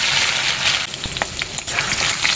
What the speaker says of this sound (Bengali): আলুগুলো এবার লাল করে ভেজে নেব